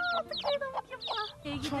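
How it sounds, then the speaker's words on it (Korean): Newborn chicks peep in rapid, high chirps while a mother hen clucks softly beneath them, a busy close cluster of small bird calls on a farm. "병아리가 태어났습니다."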